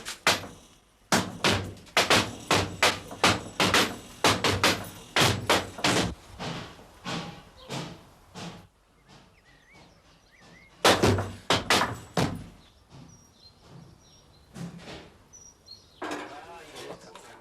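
Heavy sledgehammer blows striking a metal safe, a rapid run of loud, sharp impacts, then a pause filled with faint background activity, another cluster of hard hits, and a few scattered knocks near the end.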